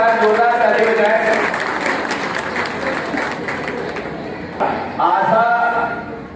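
A crowd applauds loudly at a Kasaundhan Vaishya Samaj Bageshwar puja festival in Gondia, Maharashtra, the dense clapping thinning out before a voice takes over near the end.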